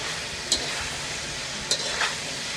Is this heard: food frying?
yes